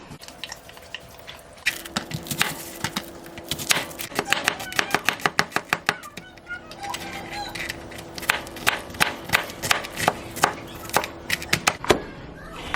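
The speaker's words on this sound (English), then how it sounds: "I'm going to cut up an onion" A knife chopping an onion on a cutting board, with bursts of quick, sharp repeated cuts separated by short pauses, close and fairly loud over a faint steady hum.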